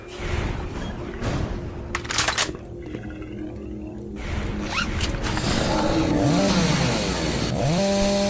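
Chainsaw revving and cutting in the video game Doom 3, a loud buzzing engine whine rising and falling in bursts, with harsh mechanical grinding and game effects layered around it.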